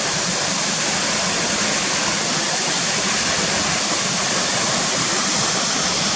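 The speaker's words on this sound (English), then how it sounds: "It's obviously fast coming down here and all these white water rapids going down towards where the bridge is." Waterfall and white water rapids on a fast-flowing river near Gunnerside, a loud, dense, unbroken rushing roar close by, steady from start to end.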